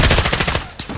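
Rapid machine gun bursts from a Call of Duty Modern Warfare battle, loud and close, hammering in quick repeated pulses for most of the second before fading out.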